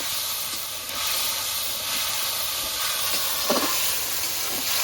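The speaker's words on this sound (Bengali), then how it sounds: "এবার মশলাটাকে নেড়ে চেড়ে একটু কষিয়ে নেব।" Spice paste with salt and turmeric fries in a pan for prawn malai curry, a continuous close hiss and sizzle with a brief stirring scrape partway through.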